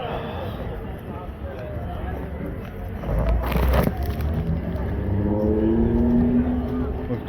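Engine of a '55 Chevy Bel Air with an LS1 swap at a parade car show, a low rumble that swells louder midway and holds, heard amid crowd noise and nearby talk.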